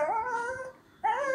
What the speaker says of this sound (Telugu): నువ్వు అరుస్తున్నావు, నేను అన్నం పెట్టను నీకు.